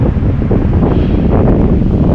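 Strong, steady wind roars and rushes continuously through trees on a snowy winter hillside, a dense broadband whoosh of tearing gusts, with no voices.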